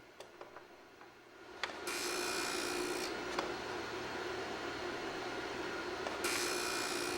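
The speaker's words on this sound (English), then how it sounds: "Finally, you may want to split the point of the drill." A Darex V391 drill sharpener splits the point of a drill bit, a steady abrasive grinding whir that runs continuously after a brief quieter start, with a few faint clicks and no talking.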